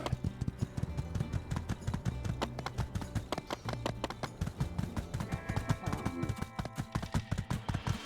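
Horse hooves clip-clop steadily in My Time at Sandrock, a brisk regular rhythm of sharp taps that keeps going for several seconds under game music.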